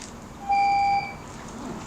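A single electronic timer beep marking the end of a speaker's time at a public forum, a steady half-second tone clear and loud over quiet room ambience.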